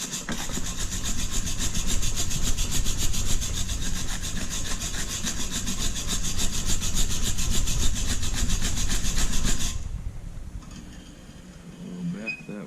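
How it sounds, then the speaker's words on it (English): A wire brush scrubs steadily at a gear on a vintage National traveling walking sprinkler, a loud, close, rhythmic rasping of rapid strokes that runs for about ten seconds before stopping abruptly, leaving quieter handling noise. "grab the wire brush here,"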